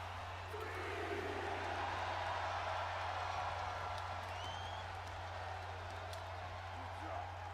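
Crowd applause and cheering in a WWE 2K23 wrestling match, a steady wash of clapping throughout with a low hum underneath and commentary voices over it.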